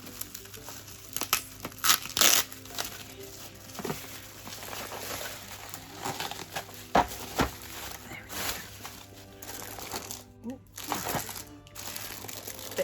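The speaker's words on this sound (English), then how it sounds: "Bit of crinkly paper, plastic wrapping." Packing paper and plastic wrapping pulled off a diamond painting storage case, close scattered crackles and crunches in irregular bursts with quieter pauses between, and a voice talking at times.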